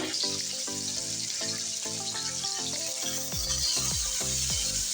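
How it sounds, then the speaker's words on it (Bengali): Rui fish pieces fry in a generous amount of hot oil, giving a loud, steady sizzle and crackle that runs unbroken throughout, with no talking. "এই তেলের ভিতরে মাছগুলো দিয়ে ভেজে নেব।"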